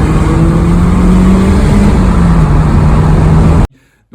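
A loud, close BMW S14 engine in an E30 M3 revs hard with a rising, raspy tone, holding high revs for a few seconds before cutting off abruptly.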